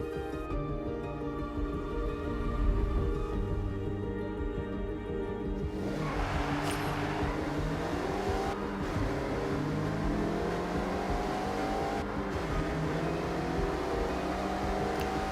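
Engine of a car driven in the racing game Forza Horizon, a steady loud drone with shifting revs and gear changes throughout, accompanied by continuous in-game music.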